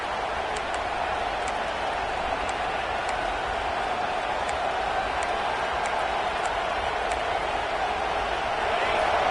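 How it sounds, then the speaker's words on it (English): A stadium crowd at an American football game roars in a dense, steady wall of noise, with a commentator's voice faintly under it and scattered whistles above. "Listen to this crowd just shaking the girders of this place"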